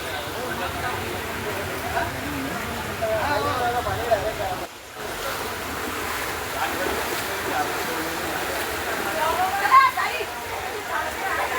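Heavy rain and floodwater rising to a house's gate and steps, a dense continuous wash of water and rainfall. A voice talks through it, with a brief dropout midway.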